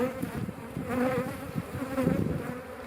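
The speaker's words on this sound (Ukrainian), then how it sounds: "будемо зараз заселяти роя назад у вулик" A honeybee swarm buzzes densely and continuously at close range as it is moved back into a hive, a steady wavering drone with no speech.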